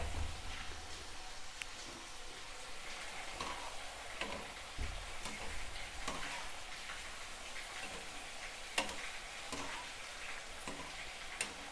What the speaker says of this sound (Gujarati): તળાઈ પણ તરત જ જાય છે.